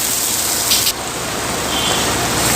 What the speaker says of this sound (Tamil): இப்போ கொஞ்சமாக தண்ணி சேர்த்துக்கலாங்க.